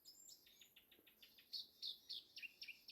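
An unidentified bird calls on a forested New Zealand hiking trail in the Silver Peaks, giving a series of thin, high chirps, quiet and somewhat distant, that grow quicker and more insistent toward the end.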